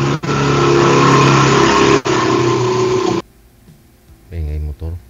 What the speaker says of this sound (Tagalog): Ingay motor.